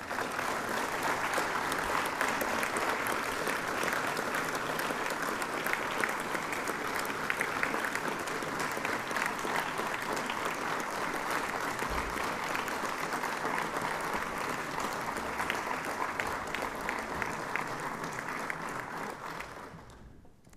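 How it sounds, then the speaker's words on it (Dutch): Warm, sustained applause for parents at a graduation ceremony, a dense crowd of clapping hands holding steady for about twenty seconds before tapering off abruptly at the end. "En ik vraag voor uw ouders dan ook een warm applaus."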